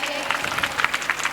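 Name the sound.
audience applause at school prize distribution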